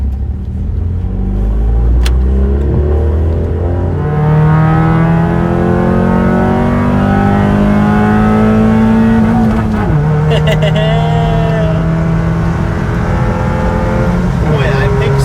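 A Honda Civic with a Type R kit pulls hard from inside the cabin, its engine note climbing steadily through a gear, dropping at a shift and rising again, with a voice talking over it.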